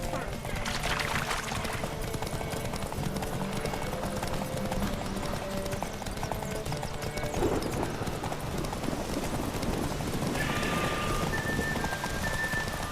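Steady clip-clop of a horse's hooves in The Witcher 3: Wild Hunt runs throughout, with music and ambient noise layered underneath and voices speaking at times.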